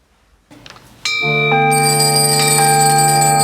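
Church bells ring out for the Easter vigil at the Anglican Dongdaemun church, starting abruptly and swelling into a loud, sustained, shimmering peal with no talking.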